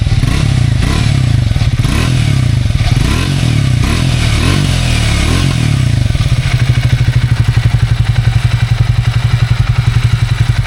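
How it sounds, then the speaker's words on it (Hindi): Triumph Speed T4 motorcycle exhaust, heard alone and close with revs rising and falling before settling into a steady, loud, rapid idle thump. "मगर एग्जॉस्ट साउंड इस बाइक का स्पीड 400 से भी बहुत ज़्यादा बेहतर है"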